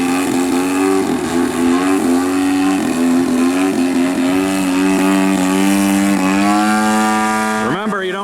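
A Hostetler 33% Super Chipmunk RC airplane engine drones loud and steady nearby, its pitch wavering slightly and then climbing before a quick sweep at the end.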